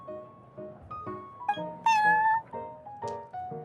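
A cat meows repeatedly in the Genshin Impact video game, a run of several clear, tonal meows of varying pitch, one longer drawn-out cry in the middle, close and alone.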